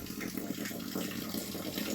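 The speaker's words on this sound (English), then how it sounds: "we've finally got water going into the twisted pond." Water steadily pours into a newly built koi pond outdoors, a constant, fairly loud rushing and splashing flow without a break.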